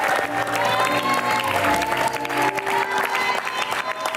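Studio audience applause on the Indonesian dating show Take Me Out Indonesia for contestant Asla, a steady dense clapping throughout with a musical backing sting underneath.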